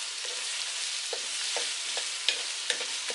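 Dungeness crab and onions stir-fry in a hot pan over raised heat, giving a steady close sizzle with a few faint scrapes and clicks from stirring.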